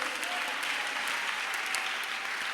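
A church congregation applauding to acclaim the Lord, a steady, dense wash of clapping that holds at an even level throughout, with no distinct voices standing out.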